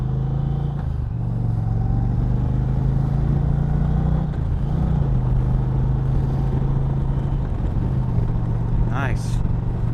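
A 2020 Indian Challenger motorcycle engine drones steadily and loudly while being ridden, with a low throbbing tone that dips and shifts pitch slightly at gear changes, plus wind rush and a brief high whine near the end.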